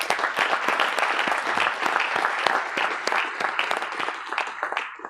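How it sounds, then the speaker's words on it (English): Congregation hand clapping during a livestreamed gathering, a dense, sustained round of applause from many people that holds steady and tapers slightly near the end, with a voice faintly present underneath. "Give him a hand clap."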